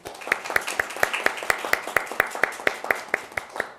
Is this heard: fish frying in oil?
no